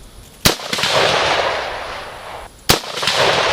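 Two sharp rifle shots fired through a pencil-profile barrel, spaced about two seconds apart, each a loud close crack followed by a long rolling echo.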